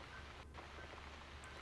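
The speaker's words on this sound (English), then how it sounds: "Looks like we got the rain back." Steady rain falling in the video game The Cat Lady, a soft continuous hiss of drops with no speech, faint and even throughout.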